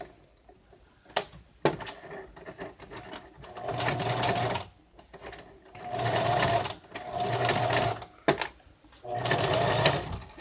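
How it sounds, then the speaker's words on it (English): A sewing machine stitches a seam on a stuffed bear in four separate runs, each a close, steady whirring burst broken by short pauses and small handling clicks. "This one has a little bit of a space, so we'll sew that back down."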